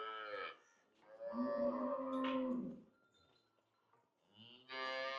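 A tall Jersey-Friesian cross dairy cow on a farm lets out long, deep, drawn-out moos close by, separated by quiet pauses, with a further call starting at the end.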